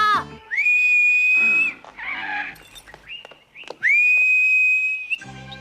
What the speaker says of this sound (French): Il obéit au sifflet d'un sale gamin.